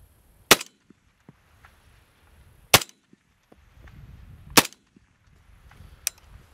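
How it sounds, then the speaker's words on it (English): Rifle test firing at a range with an adjustable bolt carrier fitted: four sharp, loud gunshots spaced a couple of seconds apart, each a crisp crack with a short tail, separated by quiet and faint handling noise. "I'm going to shoot a couple of rounds"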